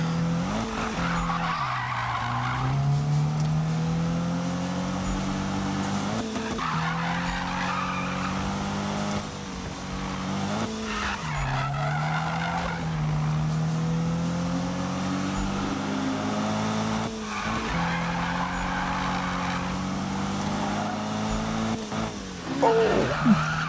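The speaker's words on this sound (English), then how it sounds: "See, not too hard to drift in this game." Car drifting in the Need for Speed PC racing game, with long loud tire squeals and skidding over a steady engine drone that rises and falls through repeated slides for the whole stretch.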